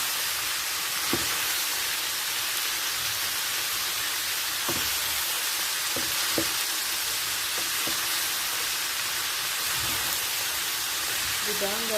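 Carrots, potato and green peas stirred as they fry in a pan, a steady broad sizzle running throughout with occasional scraping strokes of the utensil, and a voice talking briefly near the end.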